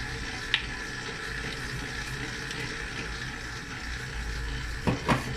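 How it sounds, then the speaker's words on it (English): Water trickles in a slow, steady stream into biga pizza dough turning in a mixer, with a soft continuous splashing and a few brief clinks near the end. "we add the rest of our water slowly, step by step"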